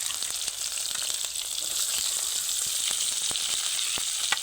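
Onion, ginger and garlic fry together in hot oil with a continuous, dense crackling sizzle, close and even throughout, with faint stirring ticks.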